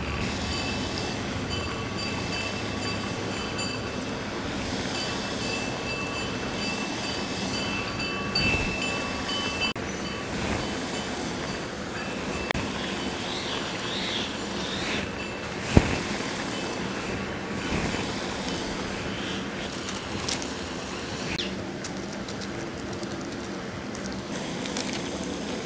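Rice thattai fry in a pan of hot oil, giving a steady broadband sizzle scattered with small crackles and pops that continues evenly throughout.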